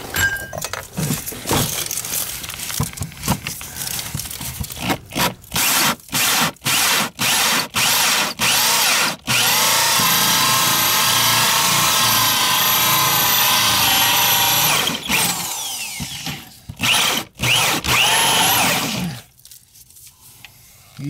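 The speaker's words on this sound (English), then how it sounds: "I'm going to drill it from the outside in now" Power drill boring a hole outward through a concrete basement wall for sump pump piping, a loud sustained grinding whine broken by short bursts before steady drilling, then stopping near the end.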